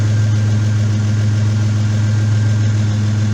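A 1997 Toyota 4Runner engine idles steadily after warming up, a close, loud, even low rumble with a constant hum and no variation in rhythm, with no voices heard.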